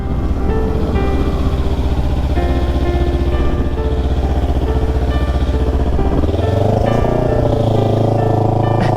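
Kawasaki Ninja 300 motorcycle engine running steadily while riding, a loud continuous droning note that drops and shifts pitch near the end as the revs change.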